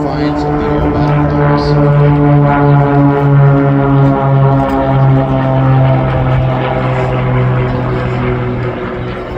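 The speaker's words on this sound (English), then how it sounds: "Watch as Greg flies a gentle turn as Todd and Mario set out the oars to catch up." Propeller aircraft of an aerobatic team flying in formation at an airshow in Barrie, Ontario, Canada, their engines giving a loud, sustained droning hum with slowly shifting pitch under an announcer's commentary.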